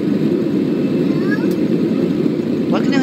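Airplane taking off in the Roblox game Survive a Plane Crash, a steady loud low engine roar with a voice speaking over it throughout.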